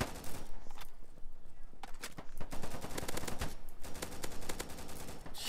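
Dense bursts of gunfire from the Polygon shooter game, rapid machine-gun volleys and overlapping single shots filling the clip loudly with almost no pause.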